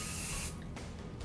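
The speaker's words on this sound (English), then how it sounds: "Again, spray." A hairspray can sprays in a steady hiss for about half a second, close and fairly quiet, then stops, leaving only faint background.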